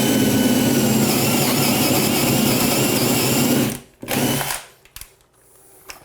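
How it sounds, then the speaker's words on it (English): A power drill with a 1.5-inch bit bores all the way through softwood lumber, a loud steady grinding whine that runs continuously for about four seconds, then stops abruptly, followed by a few brief knocks and rattles. "we're going to drill all the way through"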